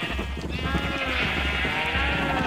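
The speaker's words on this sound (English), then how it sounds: "I gotta kill off some of these orange sheep" Sheep bleating in Minecraft Java Edition 1.14.4, a steady, close, wavering tonal bleat sustained across the whole stretch over a low background rumble.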